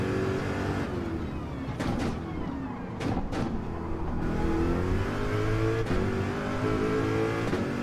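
An American muscle car, a Mustang with side pipes, revving in Gran Turismo 7, its engine droning and rising in pitch with sharp pops and bangs from the exhaust along the way.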